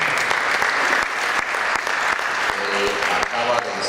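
Church congregation applauding a guest minister, loud continuous clapping from a full room with a few voices mixed in.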